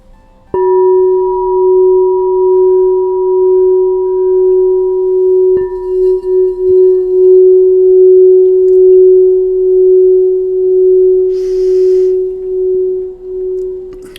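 A crystal singing bowl rings out a single steady, pure sustained tone with faint overtones, loud and close, holding evenly for over ten seconds with no voices.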